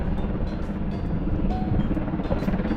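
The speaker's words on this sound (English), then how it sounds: "This helicopter's going crazy." Steady low rumbling drone of a helicopter close by, continuous and fairly loud throughout, with no talking.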